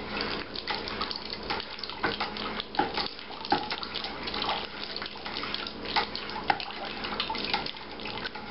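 Priming sugar solution is poured slowly into beer in a bucket during home brewing, a steady trickling, splashing stream with small gurgles and drips, moderately close and without talk.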